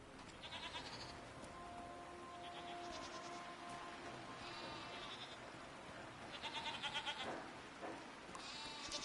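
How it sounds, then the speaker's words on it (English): Goat-like creatures bleating in the video game Season: A Letter to the Future, several short wavering calls spread across the scene over a steady ambient game soundscape. "What are these strange goat-like creatures? Are they simply goats?"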